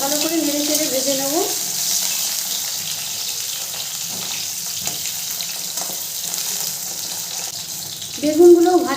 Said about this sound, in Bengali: বেগুনগুলো দিয়েও খুব ভালো করে নেড়ে চেড়ে ভেজে নেব।